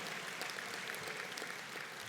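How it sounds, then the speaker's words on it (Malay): Soft, distant applause from a crowd, a steady wash of clapping with no voices on top. "kita bagi tepukan gemuruh kepada mereka"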